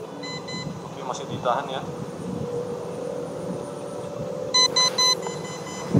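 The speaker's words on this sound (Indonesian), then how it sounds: "Oke, sudah bunyi bip bip tiga kali." An MJX Bugs B20 drone gives a short series of loud, sharp electronic beeps near the end, after earlier fainter beeps, while someone speaks in Indonesian over a low background hum.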